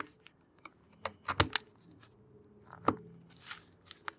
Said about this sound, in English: the knife will cut right through it